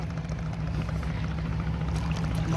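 Big ships pass on a river at Chandpur, giving off a steady low mechanical hum with a constant droning tone, moderately close and continuous, with no voices.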